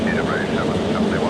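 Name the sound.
Aérospatiale BAC Concorde aircraft climbing after takeoff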